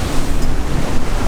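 Strong wind in the high 20s to 30s buffets the microphone while a rough, messy sea rushes and churns around a sailing boat, making a loud, steady roar with no voices.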